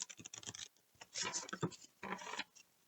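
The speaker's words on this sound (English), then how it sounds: "I'm going to give them a good shuffle" A deck of tarot cards is shuffled in quick bursts of crisp riffling and flicking, three separate runs of papery ticks with short pauses between, close and fairly quiet.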